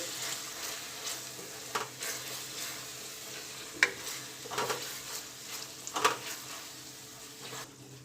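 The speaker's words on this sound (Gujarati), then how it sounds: "હવે એને સતત હલાવતા રહેવાનું, નકર આદુ આપણું નીચે ચોંટી જશે।" Ginger and green chili paste frying in hot oil while being stirred, a steady close sizzle broken by scraping strokes of a spoon in the pan.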